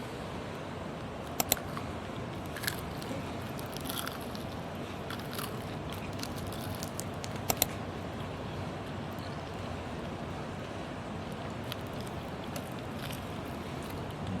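A cheese waffle is bitten and chewed close up, with a few sharp crunchy bites near the start and middle and quiet chewing under steady background hiss.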